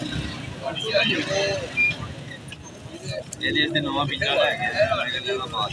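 Soft coos of Indian short-beaked pigeons at a pigeon market at Lahore's Lari Adda sound over steady background noise, with a vehicle rumbling nearby and a voice talking at times.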